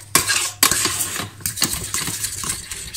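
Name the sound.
stirring caramel in a pan on low heat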